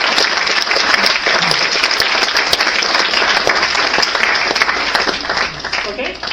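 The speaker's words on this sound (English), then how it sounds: "we should give them another round of applause" A conference audience at a 2025 SfN connectome and memory decoding meetup gives another round of applause for the year's awarded papers. The clapping is loud, dense and continuous throughout, with individual claps crackling near the front.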